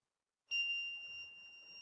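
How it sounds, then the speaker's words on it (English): A student-built proximity sensor device gives a steady electronic beep as a phone comes near, a clean sustained tone that starts abruptly after a brief silence and fades slightly while holding. "When I will use my phone near to my eyes, it will make a beep sound."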